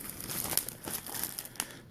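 Sticker sheets for a Traxxas Summit RC truck body crinkle and rustle as they are handled close up, a continuous papery crumpling with small sharper crackles.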